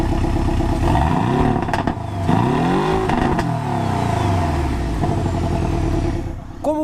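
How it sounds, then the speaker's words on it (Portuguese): A Porsche 718 in sport mode revs hard several times, the engine and exhaust climbing and falling in loud, close sweeps with crackling blips between the pulls. "no modo esporte, o escapamento fica mais sonoro com o legítimo som de um carro esportivo"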